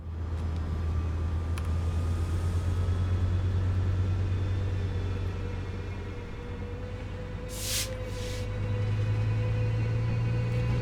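An EMD F125 locomotive in Train Sim World 4 pulls away on an Antelope Valley run, with a loud steady low diesel drone and rumble, a constant engine hum, and a short higher hiss burst near the end.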